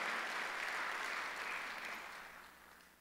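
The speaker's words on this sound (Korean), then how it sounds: "박수 한번 주세요." A church congregation at a Korean Sunday worship service claps together in a full, even burst of applause that gradually fades away over a few seconds.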